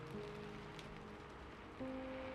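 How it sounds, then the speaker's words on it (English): Rain patters steadily and softly against train windows, a faint continuous hiss of drops with a low hum underneath. "the rain continued to tap against the windows, creating a soothing rhythm"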